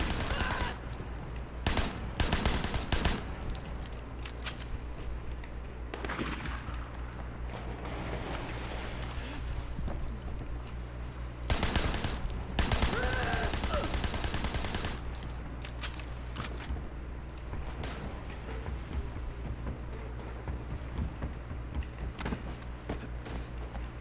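Rapid bursts of gunfire from a newly acquired weapon in the action video game Sleeping Dogs (Year of the Snake DLC), loud volleys at the start and again around the middle over a steady game soundscape, with no talk.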